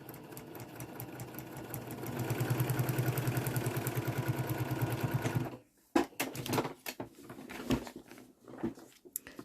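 Machine stitching along quilt seams on a tree block, a rapid even pulse lasting several seconds, then it stops and intermittent handling clatter follows.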